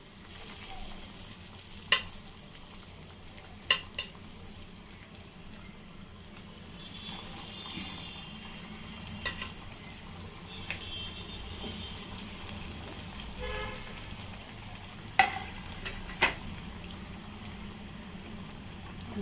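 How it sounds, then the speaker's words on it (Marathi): Sweet corn cutlets frying in hot oil give a steady, moderate sizzle that runs throughout, with a few sharp utensil clinks scattered over it and no talking. "दुसरे ते पण मी फ्राय करून घेते."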